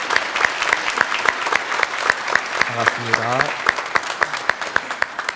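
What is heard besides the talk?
church congregation applauding to welcome a visitor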